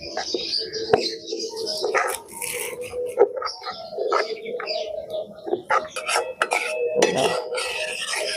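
A spoon stirs milk into caramelised sugar in a kadai while making Bengali sweet yoghurt (mishti doi). Intermittent scraping and light clinks of metal against the pan sound close by over a steady background hiss.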